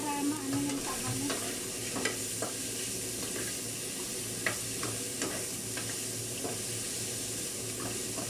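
Chicken browns in a hot pan for tinola, a steady close sizzle and fry running throughout with occasional sharp crackles and stirring scrapes, no voices.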